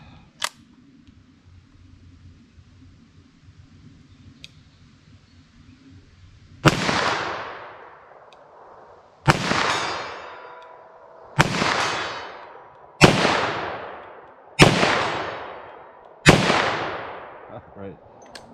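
.38 Special +P revolver shots fired at a target, six loud sharp reports spaced roughly two to three seconds apart, each with a decaying echo, after a quiet stretch with a faint click.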